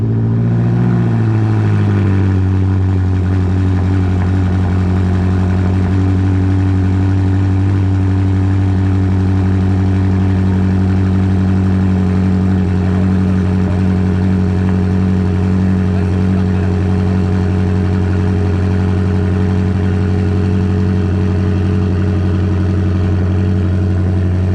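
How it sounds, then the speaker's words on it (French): BMW M5 engine with its silencer removed, starting with a brief crank and catch, then settling into a loud, steady, deep-toned idle and rev held for over twenty seconds, close up with no talking. "Donc forcément on va vous faire un petit démarrage sans silencieux."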